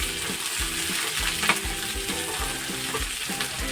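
Green chillies, split in two, fry in hot oil in a pan for coconut chutney, making a loud steady sizzle and crackle with a few stirring clinks close by.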